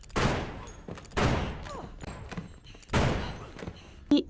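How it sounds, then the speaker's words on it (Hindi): Bursts of gunfire from a movie scene as a woman named Carol shoots a group of people, several heavy volleys separated by short gaps, loud and close, ending in a sharp single shot. "कैरल उन पर गोलियां चलाकर सभी को मार डालती है"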